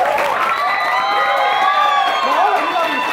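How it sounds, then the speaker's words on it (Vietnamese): A large crowd at a multi-level marketing event applauds and cheers for the chairman, loud sustained clapping and shouts under booming amplified music. "Một tràng vỗ tay thật lớn nữa cho Chủ tịch Nguyễn Xuân Hoàng chúng ta."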